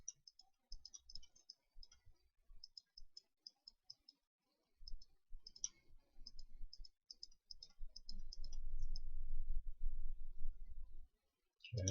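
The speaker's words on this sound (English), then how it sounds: "So I'm just holding shift and left mouse button clicking on this." Computer mouse clicks sound while the left button is held with shift to smooth geometry in Maya 3D modeling software, giving quiet, sparse, close clicks with a few light rattles and faint background noise.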